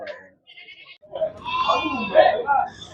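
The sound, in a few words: goats bleating at a goat market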